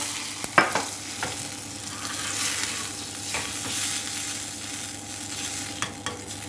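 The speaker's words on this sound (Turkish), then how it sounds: "Ben buna biraz da su koyacağım. Böyle ki salçamız dağılsın iyice." A spoon stirs tomato paste with water in a lentil soup pot: close, steady scraping and swishing with a soft sizzle underneath, a few sharp clinks against the pot, and no talk.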